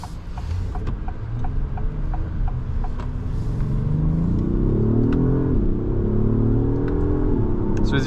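A 2025 Acura MDX Type-S Advance SUV accelerates, its engine hum climbing in pitch under steady road and cabin noise, with soft ticking in the background.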